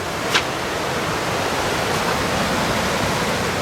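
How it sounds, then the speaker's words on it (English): A deep, fast-running creek in the Idaho backcountry makes a loud, steady broadband rush that fills the whole stretch without a break, with one faint click early on and no voices. "This creek was running deep and fast, and the video does it no justice"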